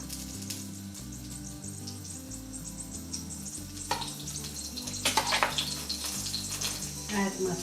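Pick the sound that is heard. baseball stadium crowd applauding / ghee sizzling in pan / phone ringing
ghee sizzling in pan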